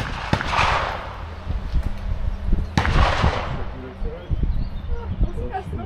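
Two loud shotgun blasts at clay targets ring out a couple of seconds apart on a clay shooting range, each with a booming echo, while people talk around them.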